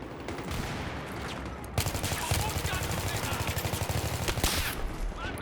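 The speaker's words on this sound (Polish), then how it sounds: "A ci się tu strzelają." Battlefield video game gunfire: rapid machine-gun bursts and crackling shots, first distant and dense, then a louder, closer, rhythmic automatic burst, with a voice faintly under the din.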